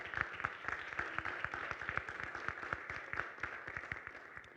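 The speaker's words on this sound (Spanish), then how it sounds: "Un aplauso." Audience applause at a forum on Mexican constitutional identity rights, a steady run of dense clapping from a moderately sized crowd filling the room at a fairly soft level.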